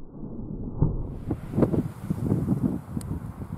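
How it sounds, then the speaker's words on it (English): Gusty wind buffets the microphone outdoors on a breezy day during rock chuck hunting, a steady low roar with stronger swells, close and fairly loud, with no talking. "Breezy day for chucks."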